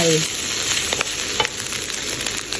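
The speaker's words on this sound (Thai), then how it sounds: "นี่ทอดหน่อยทอดหน่อยเสียงจะได้แบบเล้าใจ" Hot oil sizzles and crackles steadily in a pan of frying rice and chili for shrimp-paste fried rice, with a few scraping stirs and occasional sharper pops, loud and close throughout.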